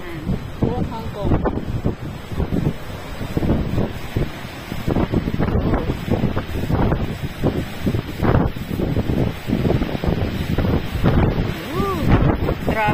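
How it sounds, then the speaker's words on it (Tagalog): Strong gusty wind buffets the microphone on the High West peak in Hong Kong during a morning hike, roaring loudly and continuously with people talking throughout. "See guys, so windy, super windy."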